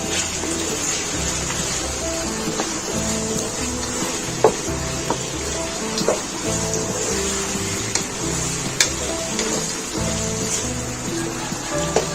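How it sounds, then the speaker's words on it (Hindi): A spoon stirs potato fry in a pan, scraping and clinking in scattered soft knocks over a steady low sizzle, with faint bird calls in the background. "इसे मैं अच्छे से चम्मच से मिक्स कर लूंगी।"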